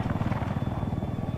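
Attack helicopter in Battlefield 4 gameplay, its rotor thumping in a fast, steady loud beat close by throughout.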